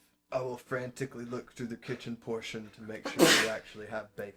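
A single sharp sneeze bursts out in the middle of steady, close conversational speech, briefly louder than the surrounding voices.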